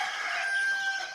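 Desi country rooster crowing on a farm, a single loud drawn-out call heard close up and alone.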